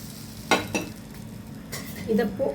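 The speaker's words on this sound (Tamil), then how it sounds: "இப்போ இந்த தடுக்கா நம்ம இதில் சேர்த்துக்கலாம்." A hot tadka tempering goes into dal chicken, with a few sharp close sizzling bursts and metallic clinks from the pan and spoon against a quiet kitchen background.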